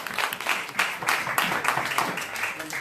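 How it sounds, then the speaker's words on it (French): A rabbinic gathering applauds to thank Rav Yitzhak Cohen, a room of hands clapping in a fairly steady, dense patter at moderate loudness, with no talk over it. "je voulais simplement qu'on applaudisse"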